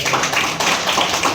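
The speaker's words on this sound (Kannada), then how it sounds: "ನಮ್ಮ ಪ್ರೀತಿಯ ನಿರ್ದೇಶಕರಿಗೆ ಕಲೀಂ ಸರ್ಗೆ ಒಂದ್ಸತಿ ಜೋರ ಚಪ್ಪಾಳೆ." Audience applause for a film director at a Kannada movie event, a dense wash of many hands clapping continuously at close range, loud and steady throughout with no talking.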